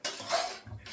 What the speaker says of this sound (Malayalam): അമ്മ അതൊന്നുകൂടി ഇളക്കി കൊടുക്കുന്നു